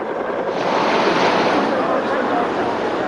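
Strong floodwaters surging in deep flooding at Botolan, Zambales, during a rescue with a rubber boat, heard as a loud, dense, continuous roar of rushing water.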